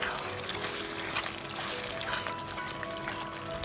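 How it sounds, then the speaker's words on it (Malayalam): Cream poured into a pan of creamy mustard chicken, a soft steady pour with a light sizzle running continuously underneath. "ഇനിയിപ്പോൾ ഞാൻ ഇതിലേക്ക് ക്രീമാണ് ചേർക്കുന്നത്"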